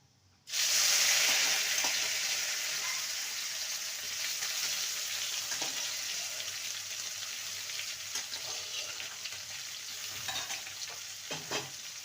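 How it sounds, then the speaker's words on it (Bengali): Steamed bitter gourd drops into hot oil that was tempered with whole spices, setting off a sudden loud, steady sizzle. The frying continues evenly throughout, with a few faint clinks of a utensil late on. "এবার ভাপানো উচ্ছেগুলো দিয়ে দেবো"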